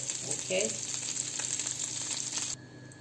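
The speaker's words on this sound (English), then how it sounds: "Okay, I will just fry it a little bit because I will be needing a brown color." Food fries in oil in a pan, a steady close sizzling hiss that cuts off abruptly near the end, with faint clatter in the background.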